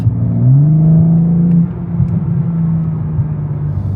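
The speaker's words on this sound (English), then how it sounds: "Get some burbles and pops in the background when you let off" BMW M4 CS engine and exhaust rumbling close by, a steady low drone that shifts pitch as revs change, with faint crackles suggesting burbles as the throttle lifts.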